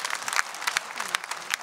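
Audience applause at a gala concert of a folk singer, a dense burst of clapping from a crowd that holds steady through the short stretch, with a voice faintly audible beneath it.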